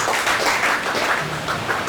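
A church congregation claps together in a dense, continuous burst of applause, close and loud throughout.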